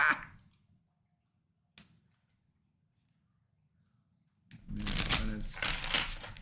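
Papery playing card shuffling rises near the end after a long quiet stretch, dense riffling and flicking bursts close by, with a brief tap earlier.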